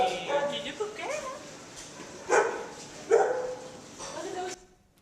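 A dog in a played-back recording whimpers and gives a few sharp barks, heard through a speaker in a conference setting with human voices mixed in.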